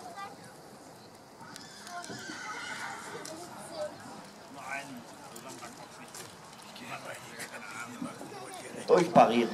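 Horses whinny and hooves thud during a riding lesson in an arena, with an instructor speaking throughout and a louder neigh near the end.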